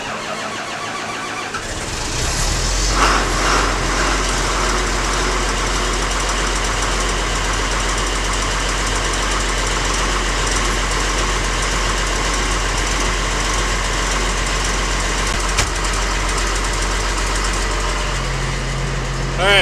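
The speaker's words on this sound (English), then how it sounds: "The wheel loader says 14, so it started pretty easy." A wheel loader's diesel engine cranks and catches after a cold start in freezing weather, then settles into a loud, steady, knocking idle close by, with some talking.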